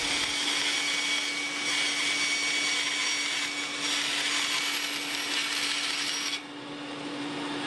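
A bandsaw cutting through wood, a continuous loud buzzing whine with a rasping edge that drops in intensity toward the end as the cut finishes.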